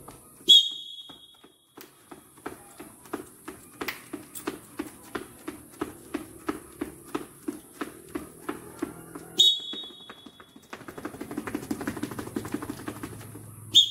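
A sharp whistle blast cues an exercise drill, followed by a run of rhythmic footsteps marching in place, then a second whistle blast and more quickening steps.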